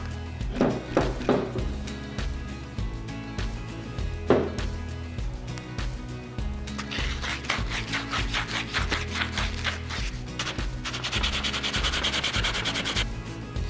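A wooden fishing rod under repair is sanded by hand with 150 grit sandpaper, heard as close, rhythmic rasping strokes that speed up and get louder toward the end, with a few knocks early on.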